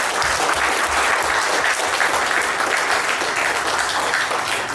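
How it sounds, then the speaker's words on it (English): Hearty applause from a leadership conference audience, with dense, loud clapping filling the room steadily and without pause. "Can we give a big round of applause?"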